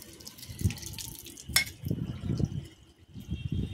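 Water runs from a tap on a home rooftop terrace garden while garden tools are washed, a steady close splashing flow with irregular surges and drips, no talking.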